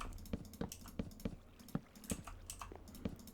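Keys clack on a computer keyboard in an irregular quick rhythm, close and fairly quiet, with no talking.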